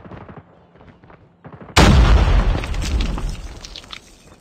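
A grenade blast in the mobile shooter Call of Duty Mobile bursts in loud and sudden after a few quiet seconds of low game ambience, then a heavy rumbling roar with debris hangs on and slowly fades.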